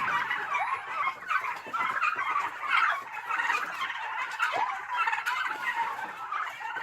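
A flock of three-month-old turkeys on a farm gobbles almost continuously, with overlapping bursts from many birds at close to middle distance and no talking.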